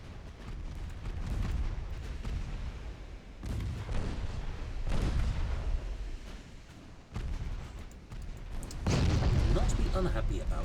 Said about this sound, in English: Normal fire your main guns.